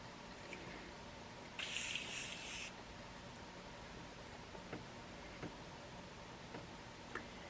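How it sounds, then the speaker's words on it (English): A short burst of Morphe makeup setting spray hisses as a fine mist for about a second, close and soft, amid quiet room tone with a few faint ticks. "I am using the Morphe setting spray."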